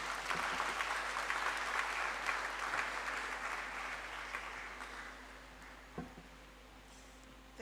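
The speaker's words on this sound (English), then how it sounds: "Please welcome her with some applause." Audience applause at a university inaugural lecture, steady and full for about five seconds, then thinning out to a few scattered claps.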